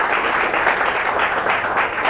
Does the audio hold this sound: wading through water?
no